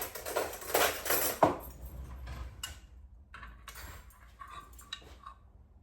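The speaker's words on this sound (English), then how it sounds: "Get a nice clean spoon out." A clean metal spoon clinks and rattles against dishes as it is taken out to scoop homemade soy-milk yoghurt, several close, light metallic taps and knocks in a quiet kitchen.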